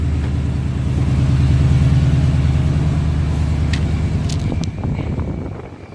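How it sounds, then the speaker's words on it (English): A 2018 Toyota Tundra hot rod truck with a 600+ horsepower engine runs steadily after a cold start, warming up with a loud, continuous low rumble that lifts slightly in the middle and then eases off near the end. "I got the truck pulled out, sitting here running, warming up a little bit"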